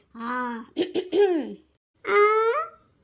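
A person clears their throat with a few short, voiced coughs and hums, followed by a longer drawn-out vocal sound.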